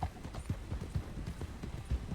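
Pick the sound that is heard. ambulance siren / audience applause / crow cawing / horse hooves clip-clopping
horse hooves clip-clopping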